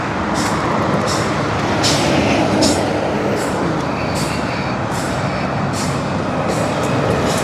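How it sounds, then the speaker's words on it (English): A garbage truck rumbles heavily along a road close by, a loud continuous engine roar broken by repeated sharp hissing bursts like air brakes. "that's where the trash trucks go and empty everything"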